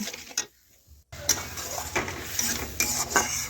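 Bengali fish curry masala of cumin and mustard paste being stirred in a pan, with scraping and knocking of a spatula against metal over a low sizzle, briefly pausing near the start before resuming in irregular strokes.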